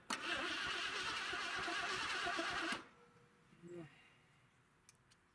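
An old Ford engine cranks over without catching, a loud, steady churning for close to three seconds before it stops, followed by quiet with faint small noises.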